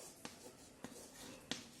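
Chemical formulas are written by hand with faint scratching strokes and three distinct light taps, heard quietly and alone.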